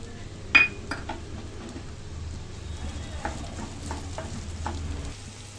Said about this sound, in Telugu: కరగేలోపు ఆనియన్ అయితే వేసేస్తున్నా